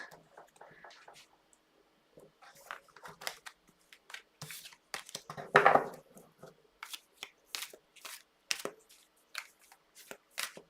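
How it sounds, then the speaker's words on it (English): Tarot cards being shuffled by hand, soft riffling and flicking card sounds in irregular bursts, close and fairly quiet, with no talking. "I'm going to shuffle again."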